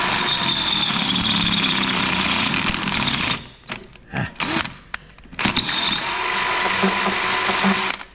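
A power drill with a 1/2-inch bit bores into the frame of a 1967 Camaro, a loud sustained whirring grind that drops out briefly midway in a few short bursts, then resumes steadily.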